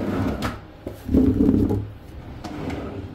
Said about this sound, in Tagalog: dito sa ilalim may drawer pa dito. So ayan, mga soft close drawer.